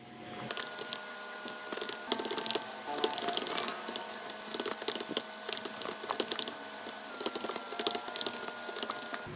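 Computer keyboard keys are typed in short bursts while data is entered into a Microsoft Excel spreadsheet. The clicking is close and crisp, with no talk.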